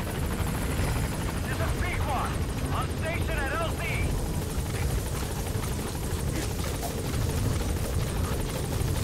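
A helicopter arrives in the video game Metal Gear Solid V: The Phantom Pain, a steady low rotor thrum that stays constant throughout. Brief voices and game effects sit over the noise.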